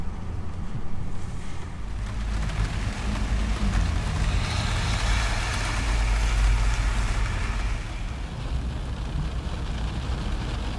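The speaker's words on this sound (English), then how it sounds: "I'm just gonna hang out and enjoy the rain because I'm enjoying it." Steady rain in Portland, a constant broadband wash with a low rumble like wind or surf, loud and unbroken throughout with no voices.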